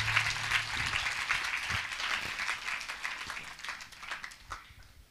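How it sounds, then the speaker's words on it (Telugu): A church congregation at a Lenten healing worship service gives loud, sustained applause, many hands clapping densely over a faint lingering tone, gradually thinning and softening toward the end. "గట్టి చప్పట్లు కొడతాం"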